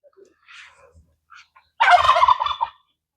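Farm turkey gobbling on a hobby farm, one loud, rapid rattling gobble heard near, after a few faint soft clucks and bird noises.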